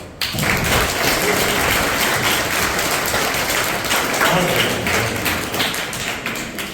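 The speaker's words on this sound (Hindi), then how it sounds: "इसलिए ताली बजाओ" An audience of teachers and students claps together in a continuous, loud, close burst of applause that starts abruptly and holds steady throughout, tapering only slightly at the very end.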